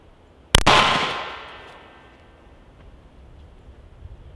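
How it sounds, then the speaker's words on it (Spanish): A single gunshot from a SIG P320 pistol in .40 caliber fired during a bulletproof vest test, a sharp loud crack followed by a long, fading echo and then quiet background. "Vamos a efectuar el segundo disparo con la P320 en calibre 40"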